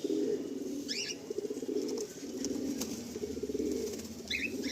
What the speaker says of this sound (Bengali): রাজনবালা নাসলের পায়রা দেখুন